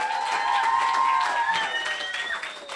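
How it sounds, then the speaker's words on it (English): Audience applause at a school poetry slam, sustained clapping from a crowd with a few cheers, steady and full for the whole stretch before fading slightly at the end. "Round of applause."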